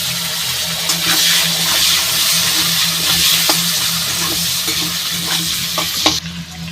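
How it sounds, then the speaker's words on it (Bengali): Potatoes fry in hot oil for a rustic village-style potato and fish curry, giving a steady close broadband sizzle with occasional scraping stirs and a low hum underneath, no voices. "এই তেলের মধ্যে আলুগুলো দিয়ে ভালো করে ভেজে নেব।"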